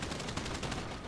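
Rapid automatic gunfire in the video game GTA 5, a fast burst of evenly spaced shots crackling loudly and continuously for about a second with no voices over it.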